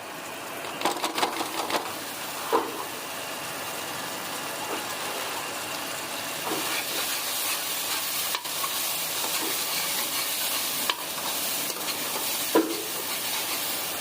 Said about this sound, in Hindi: एक मिनट के लिए भुनाई करेंगे इसकी अच्छी सी